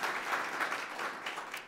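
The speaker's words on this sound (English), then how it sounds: "ilman Nate Martin of East City of Cleveland, please give him a round of applause." Applause from a political event audience at a congresswoman's remarks in Cleveland, a steady dense patter of clapping filling the whole moment with no talk over it.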